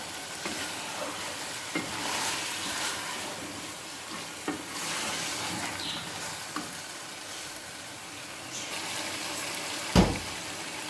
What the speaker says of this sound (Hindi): हम आलू डालकर चिकन और आलू को दोनों को अच्छी तरह फ्राई करेंगे तकरीबन 10 मिनट तक